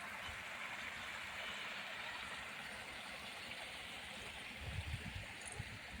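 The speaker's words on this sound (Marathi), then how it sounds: "हे झरणा" A small stream or waterfall runs below a main road on a riverside route, a steady soft broadband rush that holds evenly throughout, with a faint low rumble joining briefly near the end.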